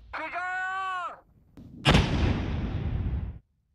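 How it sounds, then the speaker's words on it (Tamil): Unexploded rockets are blown up in a controlled detonation at the edge of a village. After a tonal sound, one loud blast hits and is followed by a long, rumbling roar that fades away. "ஒரு வழியாக ராக்கெட்டுகளை கொண்டு சென்று கிராம எல்லையில் வெடிக்க செய்தார்கள்"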